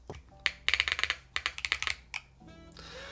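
Close, crisp clacks from a NAJA 68 mechanical keyboard fitted with swapped keycaps, typed in quick uneven bursts, followed by a soft whooshing noise near the end.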